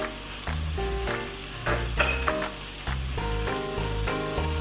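Onion with ginger-garlic paste sizzles and is stirred in a hot pan, a steady frying hiss running under prominent melodic background music throughout.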